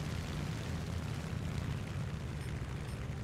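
Continuous low, heavy rumbling of artillery explosions in War Thunder gameplay, dense and booming throughout with no distinct gaps between blasts.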